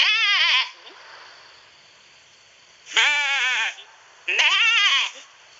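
Three loud, close sheep bleats, each a wavering, trembling cry lasting under a second, separated by quiet gaps.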